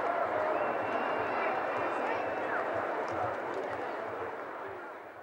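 A huge street crowd roars and cheers steadily along the route of the 1981 royal wedding of Princess Diana, with horses' hooves clopping rhythmically underneath and an announcer talking over it, fading slightly toward the end.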